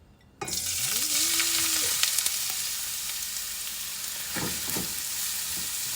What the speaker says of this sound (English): We're going to cook this ginger until it turns a little bit crispy and brown.